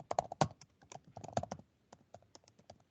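Typing on a computer keyboard: a quick, irregular patter of close, crisp key clicks, dense at first and then thinning into sparser taps.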